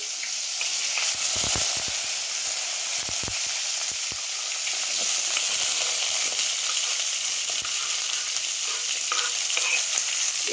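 Curry leaves, green chillies, onion and crushed garlic fry in hot oil with a loud, continuous sizzle, punctuated early on by sharp knocks of a spoon stirring the pan; no one speaks.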